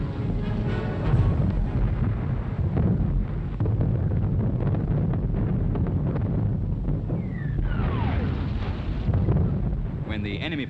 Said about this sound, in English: Mortars always were inclined to be noisy